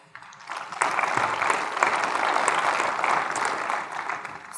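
An audience claps for panelists at a 2016 university discussion panel, a dense, steady wash of applause rising quickly after a brief quiet start and holding at full strength throughout.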